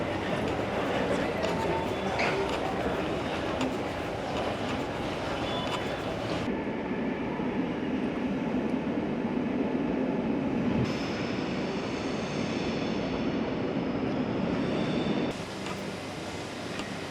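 A steady, loud rumble of a train from Amsterdam Central Station to Zaanse Schans riding along the rails, with the tone shifting partway through and a voice talking over it.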